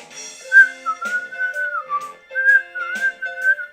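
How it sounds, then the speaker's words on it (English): A person whistles a melodic theme tune clearly and up close, with sustained pure notes and gliding pitch across several short phrases separated by brief pauses. "We're almost to the part of where I start to whistle"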